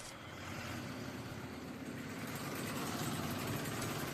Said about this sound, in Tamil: இந்த வண்டியில் இருக்கக்கூடிய எக்ஸாஸ்ட் பிரேக் என்ன பண்ணுதுன்னு பாருங்க.